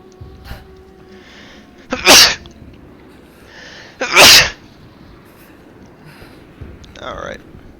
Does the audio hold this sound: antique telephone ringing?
no